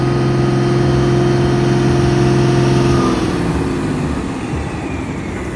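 Engine of a vehicle travelling on a road near Palani, a loud steady mechanical drone with a low hum that eases slightly toward the end.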